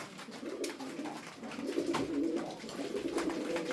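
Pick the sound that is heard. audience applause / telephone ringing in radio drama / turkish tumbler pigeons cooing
turkish tumbler pigeons cooing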